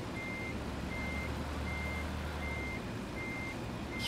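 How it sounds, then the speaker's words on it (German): A truck pulling a trailer reverses under steady engine rumble, its reversing alarm giving regular evenly spaced beeps throughout, heard from a moderate distance. "Ich fahre mal kurz weiter rückwärts."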